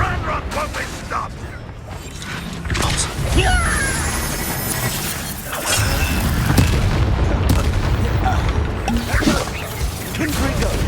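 Blasting-curse explosions in a wizard video game: repeated booming crashes and crackling impacts over a dense, loud battle mix, with bursts of spell effects and game voices throughout.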